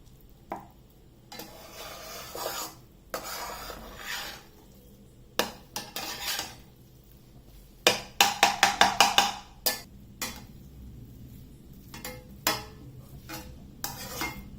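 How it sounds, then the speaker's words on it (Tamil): Leftover rice for tawa pulav being stirred gently in a tawa pan, spoon scraping and clinking against the metal in scattered strokes, with a quick burst of rapid clanks midway, close and fairly loud. "அதுக்காக நம்ம இதை வந்து மெதுவாக தான் கிண்டணும்."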